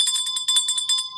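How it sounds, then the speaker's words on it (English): Rapid metallic bell ringing, bright and continuous with a fast pulsing rhythm, loud and close with no voices over it. "it is so nice to have that bell back"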